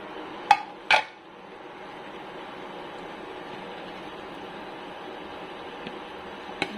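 A utensil strikes a cooking pan twice in quick succession while squid adobo is stirred, followed by a low steady sizzle and one faint clink near the end.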